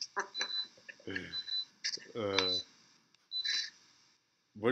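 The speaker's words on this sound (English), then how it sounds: "What is that beeping? Whose alarm's going off?" Short high-pitched electronic beeps from an alarm going off indoors, repeating in brief bursts beneath and between men chatting on a podcast.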